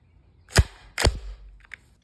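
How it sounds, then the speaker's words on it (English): A Stoeger M3000 shotgun bolt snapping into place during reassembly: two sharp, close metallic pops about half a second apart, then a fainter small click. "You're gonna press pretty hard and you will hear it pop."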